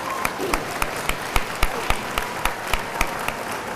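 Audience applause at a high school athletic banquet honoring senior athletes, a steady patter of many hands clapping with sharper individual claps standing out, moderately loud throughout.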